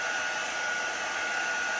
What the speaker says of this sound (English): Or you can just speed up the process with a hair dryer or a heat tool.